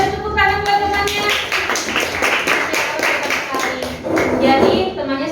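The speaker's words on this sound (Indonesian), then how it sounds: "beri tepuk tangan buat temannya." Classmates in an Indonesian school classroom clap for a student, a burst of quick, uneven hand claps close by, with a teacher and children talking over them.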